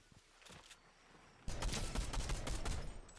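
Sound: gunfire in a video game

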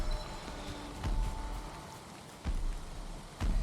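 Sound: rain falling in the video game Valheim

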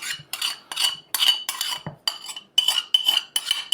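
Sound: pouring and mixing honey-soy marinade over chicken drumsticks

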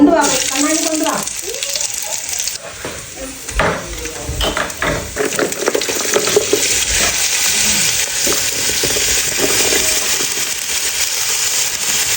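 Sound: frying and stirring masala for beef curry

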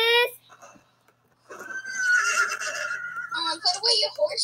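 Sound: horses neighing in a video game

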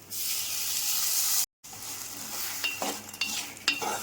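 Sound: stirring jaggery melting in water in a pan

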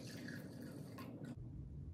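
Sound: pouring white distilled vinegar into a pot

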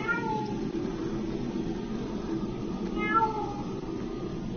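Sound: cat meowing

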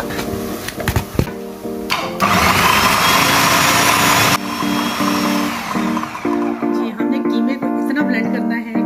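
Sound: blender blending onions, tomatoes, ginger and green chillies

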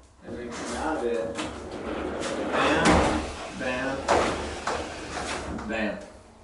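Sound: pocket doors sliding and catching each other

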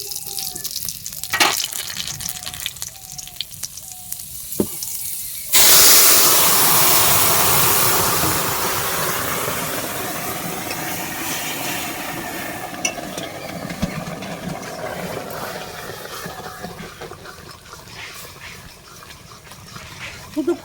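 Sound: spices (radhuni, nigella seeds) sizzling in hot oil

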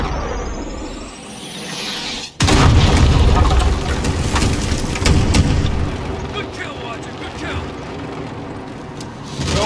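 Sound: artillery strike explosions in Call of Duty Modern Warfare video game

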